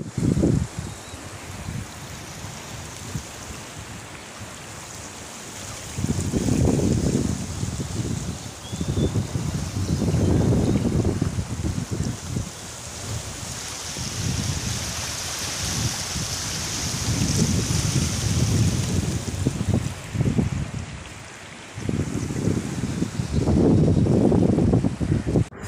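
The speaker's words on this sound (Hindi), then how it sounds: "ये पानी डेदे पे हो कितना तेज़ी दे नाल आंदा पे" Fast floodwater rushes over flooded fields and a road in loud, continuous noise, surging in low roaring bursts under heavy wind buffeting.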